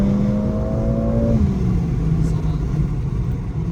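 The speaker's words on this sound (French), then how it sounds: "le son de l'échappement sort aussi un peu des enceintes" A Mercedes-AMG CLA engine revs up with a rising growl from the exhaust, then settles into a steady rumble after a gear change, heard up close from inside the car.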